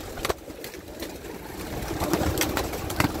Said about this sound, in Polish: O, tu jest ten gołąb.